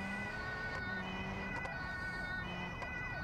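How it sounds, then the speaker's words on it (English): An emergency vehicle siren wails in a driving video game, a steady tonal warble sitting over constant engine rumble, moderately loud with no speech. "I hear two sirens at the moment."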